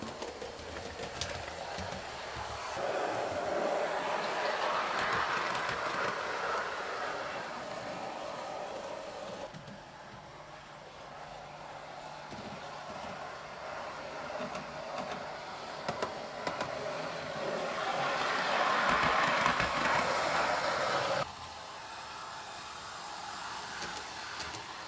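A small model train whirs steadily around its track, the motor hum swelling louder and fading as it passes near and away, no voices.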